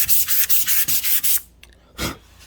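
Hand block sanding of paint and primer on a car panel with dry guide coat: about seven brisk, rhythmic rasping strokes, close up, then a pause and one more stroke.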